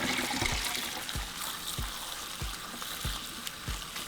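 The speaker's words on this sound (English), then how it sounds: "Give them a quick rinse before we add our clean water." Water running over tomatillos being rinsed, a faint steady trickle with soft regular splashy thumps about every half second, quiet and close.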